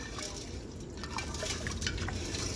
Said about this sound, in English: I might be able to put a little bit more water in here too.